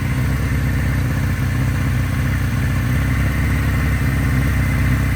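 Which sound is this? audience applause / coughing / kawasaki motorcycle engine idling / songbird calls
kawasaki motorcycle engine idling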